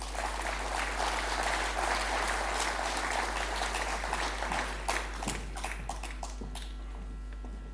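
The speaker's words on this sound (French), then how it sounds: "Et on peut l'applaudir." Audience applause fills a general assembly hall, a dense steady clapping that thins out toward the end into a few scattered claps over a low hum.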